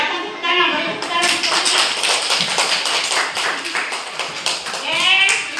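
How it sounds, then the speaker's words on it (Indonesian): Classroom applause from students during a lesson presentation, a dense run of many hands clapping at close range with irregular sharp taps, a voice speaking over it near the start and end. "Silakan tepuk tangan, beri tepuk tangan."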